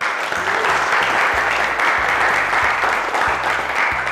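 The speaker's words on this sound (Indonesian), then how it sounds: "Berikan aplaus untuk kelompok 4." A classroom of students applauding the best-performing group, a steady burst of clapping from a small crowd lasting several seconds without speech.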